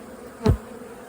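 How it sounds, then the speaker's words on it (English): A single bee buzzes past close by, a quick swelling hum that rises and fades within a second. "This frame is emerging. Seeing some new baby bees."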